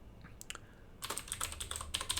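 Rapid typing on a computer keyboard, close and clear, with a few scattered keystrokes at first and then a dense, uneven burst of clacking that runs to the end, no voices.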